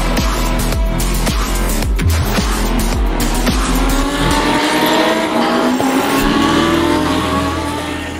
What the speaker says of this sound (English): Lamborghinis are wicked fast, 600 plus horsepower